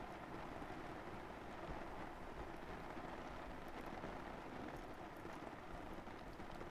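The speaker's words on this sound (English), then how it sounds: "It's raining." Steady rain falling in the hunting game The Hunter: Call of the Wild on the Layton Lakes map, a faint continuous hiss of drops with no other sounds.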